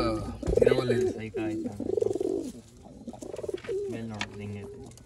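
Pigeons of an old line breed coo in a series of close, rolling, throaty calls that rise and fall over several seconds, with faint voices now and then in the background.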